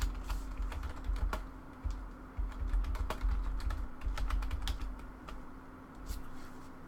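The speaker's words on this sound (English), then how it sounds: "Can you type in Eerie Interlude for me?" Keys clatter on a computer keyboard in steady, uneven bursts of typing during an online Magic: The Gathering match, fairly close over a low background hum, with no talking.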